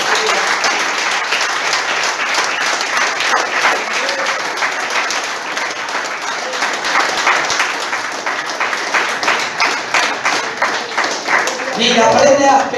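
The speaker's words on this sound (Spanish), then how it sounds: "Dale un aplauso al que vive." A church congregation applauds during a Spanish-language sermon, sustained loud clapping from many hands over about twelve seconds, with a voice breaking in near the end.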